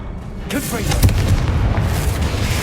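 Confringo spell explosion in Hogwarts Legacy, a loud booming blast that rises quickly and rumbles with crackling debris for a couple of seconds, with a short whoosh just before it.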